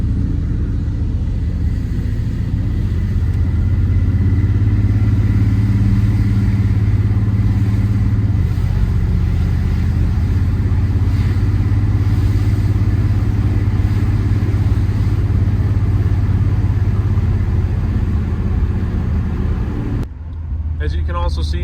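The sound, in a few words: 454 big block truck engine running choppy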